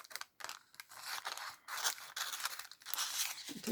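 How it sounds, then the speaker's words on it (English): Scissors cut through baking parchment paper in close, crisp snips and crunches, several quick cuts in a row with short pauses between them and no talking. "then you're able to cut it without the scissors getting stuck"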